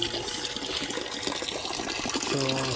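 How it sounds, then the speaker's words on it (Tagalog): Water gushes steadily from a temporary pipe into a drum on a farm water system, a continuous close splashing rush that swells slightly toward the end. "ginawa lang natin ng connection pansamantalang tubo para dito sa drum bumagsak yung tubig"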